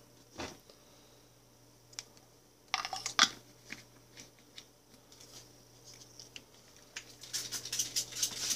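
A handheld spray bottle mists water into a Brachypelma vagans tarantula enclosure in short, hissing squirts with trigger clicks, some isolated and a quicker cluster near the end, close and fairly quiet.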